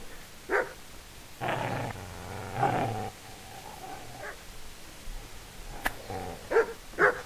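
A dog in the medieval video game Kingdom Come Deliverance growls and barks in a few short bursts at moderate distance, with quiet gaps between them.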